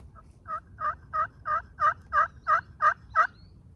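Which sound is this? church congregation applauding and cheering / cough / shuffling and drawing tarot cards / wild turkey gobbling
wild turkey gobbling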